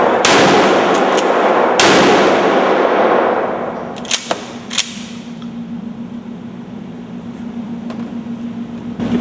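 An M16 rifle fired at a shooting range: two loud sharp shots early, then a few quicker fainter cracks, followed by a low humming background.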